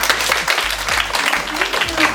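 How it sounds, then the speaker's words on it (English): A crowd claps warmly for a speaker at a university public-speaking contest, a dense and steady burst of applause over about two seconds. "So give a big applause for her."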